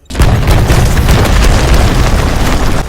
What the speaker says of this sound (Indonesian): Sebuah ledakan yang cukup besar menghantam robot alien.